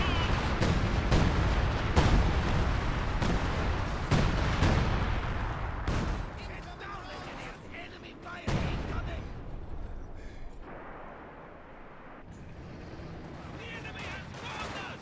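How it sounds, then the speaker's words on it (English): Heavy artillery barrages, including incendiary shells and 105mm guns, pound away in Company of Heroes 2, with repeated booming impacts and rumbling blasts under continuous commentary. "We've got the incendiary artillery as well on this forward retreat point."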